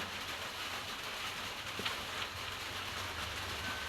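Rain falls outdoors as a steady, even hiss that fills the whole stretch at a moderate, unchanging level, with one faint brief knock partway through.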